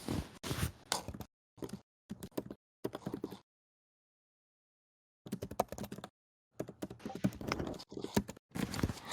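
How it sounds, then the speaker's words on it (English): Bursts of rapid typing on a computer keyboard, dense clusters of close key clacks separated by a few seconds of silence. "My keyboard."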